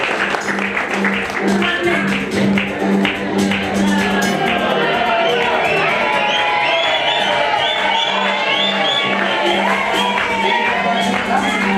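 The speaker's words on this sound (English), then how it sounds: "Please let's give him the round of applause he deserves as he comes on stage" Applause and cheering break out at an award ceremony as a speaker comes on stage: a dense, steady mass of clapping with whoops and shouts from a close crowd, and voices mixed in throughout.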